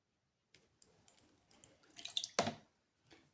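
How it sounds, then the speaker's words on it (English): Water is applied to wet a piece, with faint scattered drips and small wet touches building to a brief, sharper splashy burst near the end, close by and with no talking. "Now I'm wetting it. It's just water."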